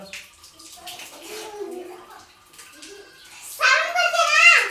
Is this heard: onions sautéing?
no